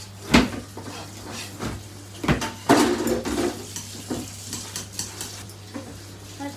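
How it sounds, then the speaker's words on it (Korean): Eggs for a Basque cheesecake are mixed in a bowl with irregular knocks and clatters of a utensil, a few sharp hits then quicker softer taps, heard close against a low steady hum. "지금 이제 계란을 섞어주고 있고요"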